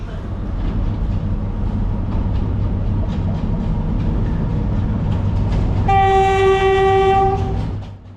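A Sri Lankan sleeper train being shunted across at a mountain station, its heavy engine rumble steady throughout, then a loud, sustained horn blast near the end before the sound drops away.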